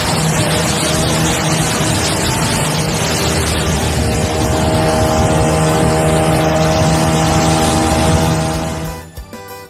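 Boat motor running steadily on a shallow river with current, a loud continuous engine drone with harmonic hum that holds for most of the stretch before cutting away near the end; no talk.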